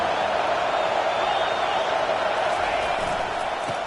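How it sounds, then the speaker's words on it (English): A stadium crowd in the College Football 25 video game, at a Texas at Alabama game, swells into a loud, steady roar that holds for the full stretch. "This crowd rising up, sensing that its defense needs some help."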